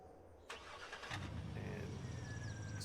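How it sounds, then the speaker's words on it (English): A truck engine in a farming video game cranks and starts, then settles into a steady mid-pitched running rumble, faint and close. "take the truck down to the lower part of the field"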